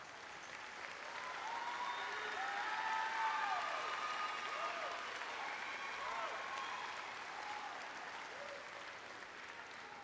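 Graduation audience at Cedar Rapids Jefferson High School's 2024 ceremony applauding students as they stand, sustained broadband clapping for about ten seconds with scattered cheers and voices mixed in, swelling in the middle and easing slightly toward the end.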